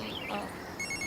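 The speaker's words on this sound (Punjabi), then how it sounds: "ਲੈ ਜੈਲੀ ਦਾ ਫੋਨ ਹੈ" A telephone rings indoors with a high electronic chime near the end, faint and thin beneath a low background murmur.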